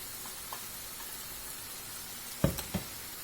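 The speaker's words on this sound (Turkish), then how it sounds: "Üç yumurtayı güzelce çırptım ve yumurtamızı melemenimizin üzerine döküyoruz." Beaten eggs in a menemen pan give off a soft, steady sizzle, with a few sharp clinks of a utensil against the pan near the end.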